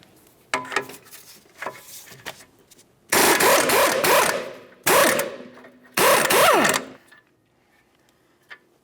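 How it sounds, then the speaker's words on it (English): A 21mm wrench works loose a tie rod nut on a 2009-2019 Ford Flex: scattered clicks and ratcheting at first, then three loud bursts of metallic grinding and squeaking turns, separated by short pauses, close up with no talking. "We'll use our 21mm wrench, get onto this, and try to turn it clockwise to break it free."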